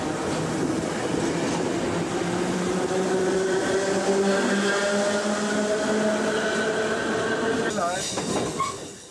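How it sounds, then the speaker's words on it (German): S-Bahn commuter train rolling across the former Berlin border near Friedrichstraße, steady loud rumble of wheels on rails with a humming drive tone, ending in a brief metallic squeal. "Nach 29 Jahren rollen nun wieder S-Bahnen über die bedeutungslos gewordene Grenze."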